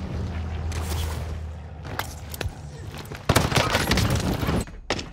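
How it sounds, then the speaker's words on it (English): Video game firefight with the player under fire: bursts of rapid gunshots and sharp cracks, with a dense loud volley in the second half, over steady background rumble. "I'm under fire."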